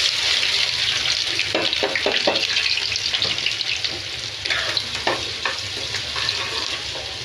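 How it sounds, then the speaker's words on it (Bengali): Sliced onions fry in hot oil for beresta with a loud, continuous sizzle and intermittent stirring, heard close up and alone with no talking. "তো আমি পেঁয়াজ কেটে নিয়েছি, এটা আমি তেল গরম করে নিয়েছি,"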